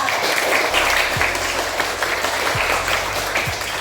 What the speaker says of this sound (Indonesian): Beri aplaus untuk Nova